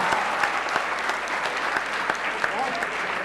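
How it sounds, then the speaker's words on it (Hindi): An audience at a Hindi poetry recital gives a short burst of dense, continuous applause, even and moderately loud throughout. "हम चाह रहे हैं इनके लिए तालियां"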